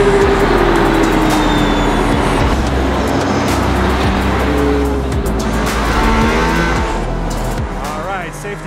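A Mercedes-AMG race car at full throttle on the Barcelona circuit, its engine roaring loud and close with rising revs and gear changes, a continuous onboard drone throughout.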